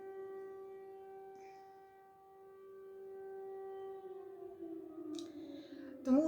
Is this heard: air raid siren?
yes